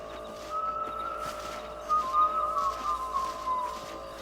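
Melodic Western-style whistling from the Red Dead Redemption video game, a wavering tune that rises and falls over a faint game background, fairly clear and unaccompanied by talk.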